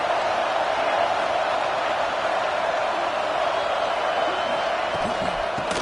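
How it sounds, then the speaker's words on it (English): Steady, dense stadium crowd roar in the college football video game NCAA 26, swelling as the home fans try to spur the defense with the offense pinned back; the noise holds constant throughout with no voices clearly on top. "this crowd coming to life here, trying to help the defense get a stop with the offense pinned back."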